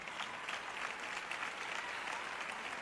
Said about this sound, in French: vous applaudissez quand je dis que Jésus revient